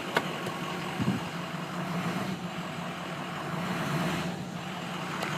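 A 2004 Ford F350 Power Stroke 6.0 diesel engine idles with a steady, rumbling drone, the pitch rising slightly as it is revved around the middle and near the end.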